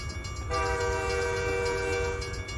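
A train horn in the video game American Truck Simulator blares with a sustained, chord-like tone over low rumbling, holding steadily for about two seconds, fairly close and loud.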